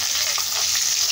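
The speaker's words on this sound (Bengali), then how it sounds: "এখানে হচ্ছে মাছ ভাজা" Fish fries in a pan in a busy home kitchen, a loud, close, hissing sizzle holding steady throughout the short moment.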